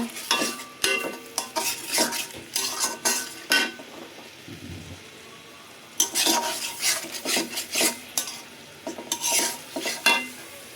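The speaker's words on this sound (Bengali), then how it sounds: "টমেটো মশলার সাথে কষাই নিলাম" A spatula scrapes and stirs spices with tomato masala in a pan, in rhythmic bursts of scraping over a light sizzle, with a short pause in the middle before the stirring resumes.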